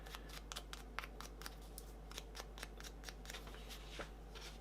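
A heavy lead pencil rubs over the raised ridges of a corrugated metal scale model, giving a series of short, dry scratchy strokes close to the mic at an uneven rhythm, with no voices.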